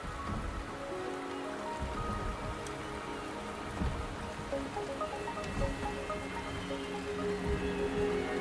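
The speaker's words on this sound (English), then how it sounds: "the rain is subsiding, and the sky will soon clear" Steady rainfall in the video game Wuthering Waves patters continuously on surfaces, a constant hiss of drops with faint musical tones beneath.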